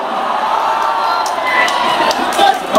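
A live poetry performance at a university, an audience cheering and shouting in a loud, continuous crowd roar, with clapping rising toward the end.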